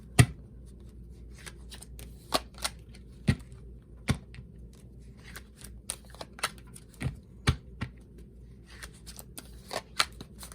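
A deck of tarot cards being shuffled, with crisp riffling bursts and sharp snaps recurring at irregular intervals over a quiet background.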